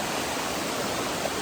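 South River Falls in Shenandoah National Park, a steady broadband roar of falling water that holds even and unbroken throughout, close and moderately loud with no voices over it.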